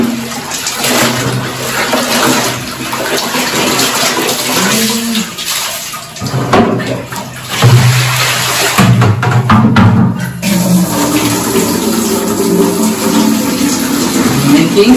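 Water pours and splashes steadily close by while hand-washed clothes such as a t-shirt are rinsed, with a brief dip and then a fuller, louder gush in the second half.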